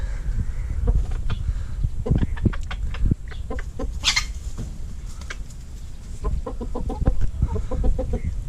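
Several laying hens cluck and murmur close by in short, irregular bursts as they peck at newly introduced purebred hens, with a brief higher squawk in the middle and no talking.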